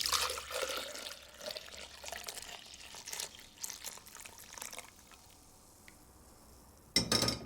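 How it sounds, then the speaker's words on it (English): Scented floral wine pours from a pan into a jug in a continuous liquid splash and trickle that tapers off, followed by a sharp clink near the end. "I'm going to pour this into a jug first"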